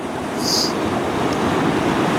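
Ocean waves surging close by at night, a continuous loud wash of surf with a faint high whistle near the start.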